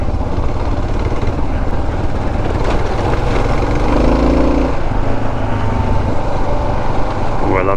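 A single-cylinder Kawasaki KLR 650 dual-sport motorcycle engine thumps steadily up close, a loud, rough idle that barely changes throughout.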